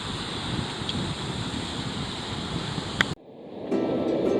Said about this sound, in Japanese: 台風、19号のうねりで、これシュノーケリングどころじゃないぐらい波なんですよね。